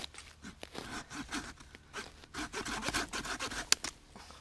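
A cheap hand saw cutting through a piece of wood, with repeated rasping back-and-forth strokes up close and a sharp crack near the end.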